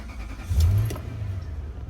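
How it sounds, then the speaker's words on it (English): A 2001 Toyota Land Cruiser J100 with over 400,000 miles, its engine catching with a brief low rumble that settles into a steady idle, close and alone. "Still starts up perfectly, not an engine light, not a check anything light, nothing."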